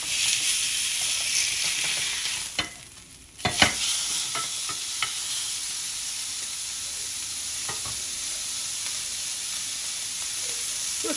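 A London broil steak sears loudly in a hot pan after being flipped, giving a dense, continuous sizzle and hiss. It dips briefly during the turn and then surges back with sharp crackles and pops.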